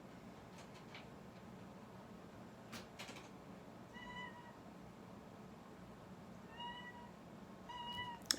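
A cat meows indoors in a few faint, short calls, two close together and then another pair near the end, over quiet room noise with a couple of soft knocks.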